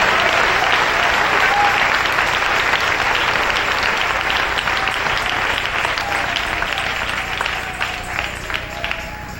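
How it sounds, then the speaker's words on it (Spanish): A church congregation applauds at a Spanish-language service, steady sustained clapping from a large crowd filling the room for the whole stretch, loud and continuous before easing slightly near the end. "Dale ese aplauso al Rey."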